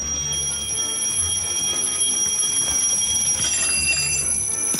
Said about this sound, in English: once you've turned the first alarm on, you have 3 seconds to get back to bed.